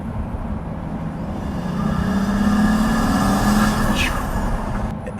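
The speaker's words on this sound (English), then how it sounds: "So we have turbo noise this time." Turbocharger noise from a Pagani Huayra: a rising engine drone with a high turbo whine and a short whistling sweep near the end, loud and close.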